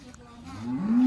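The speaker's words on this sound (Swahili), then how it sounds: "Mbona ng'ombe zako zinalia?" On a farm, a single nearby cow moo rises in pitch and loudness as it goes, heard on its own without talk.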